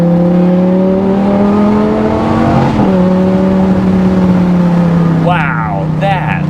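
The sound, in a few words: Lamborghini Gallardo engine accelerating while taking turns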